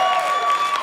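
A comedy club audience applauding, a dense steady wash of clapping and crowd noise at full volume for under a second.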